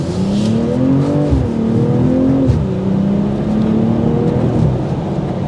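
A 2024 BMW M440i convertible accelerating hard in sport mode, its engine note climbing through the revs with two brief dips at gear shifts, loud and close from inside the car.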